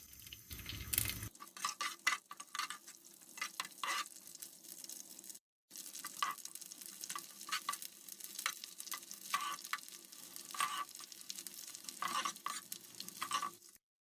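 Edible gum (gond) roasts in ghee in a pan, crackling and sizzling steadily while a spoon stirs and scrapes with irregular clinks, close and moderately loud.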